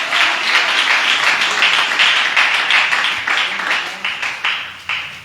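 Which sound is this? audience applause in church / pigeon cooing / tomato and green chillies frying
audience applause in church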